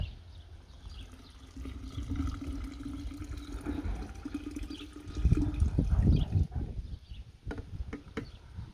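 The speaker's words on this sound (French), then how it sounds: "Je verse sur mon sucre mon eau bouillante." Boiling water poured from a container onto cane sugar in a bowl while making elderflower syrup, a steady close splashing pour that swells into a louder gush near the end, with no talking.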